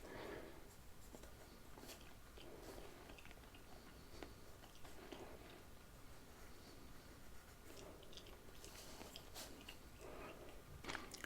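A pen drawing straight lines on a paper map of Australia, making quiet close-up scratching and tapping strokes in short irregular bursts over a faint hiss, with no voice.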